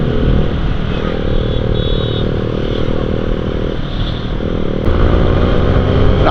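An NS motorcycle engine running loud and close on the road, a continuous steady rumbling drone with a slight shift in tone partway through.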